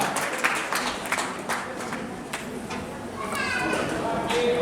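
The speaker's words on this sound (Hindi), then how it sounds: "जोरदार तालियों से स्वागत करेंगे गंगा का" An audience at a Bharat Vikas Parishad quiz competition in Jaynagar claps for contestant Ganga. The clapping is scattered and lively, with chatter and children's voices mixed in, and it fills out toward the end.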